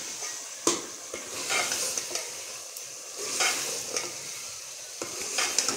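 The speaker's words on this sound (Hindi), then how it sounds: "दो तीन मिनट तक इसे ऐसे भून लूँगी" Methi and spinach sautéing in a pan, with a steady close sizzle broken by scraping stirs and soft clicks of a spatula against the pan, and no voices.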